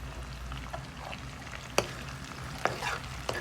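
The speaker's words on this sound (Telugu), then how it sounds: "కొంచెం ఇలా ఫ్రై అయిన తర్వాత ఉల్లిపాయలు అయితే వేసుకోవాలి" Onions frying in a pan for a home-cooked New Year chicken dish, a soft steady sizzle with a few sharp clinks of a spoon against the pan, no voices.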